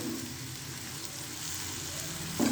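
Onions fry in a pan over a medium-high flame for an Afghani omelet, giving a steady, close, continuous sizzle with a small knock at the end.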